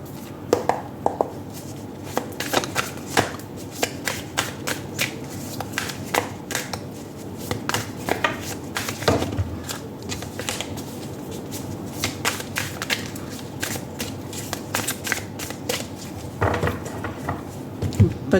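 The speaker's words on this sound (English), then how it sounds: "Now let me take out your tarot cards." Tarot cards are handled and shuffled close by, giving a continuous run of soft, rapid clicks and papery riffles with occasional sharper taps.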